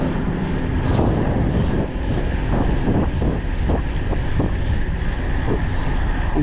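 Strong wind roars steadily across the microphone while cycling on a track, a continuous buffeting rush with occasional gusts and thumps.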